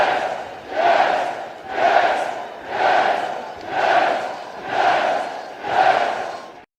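The Michigan State crowd roars in a rhythmic chant, six loud swelling shouts in an even, repeating beat, each rising and falling back with short gaps between them.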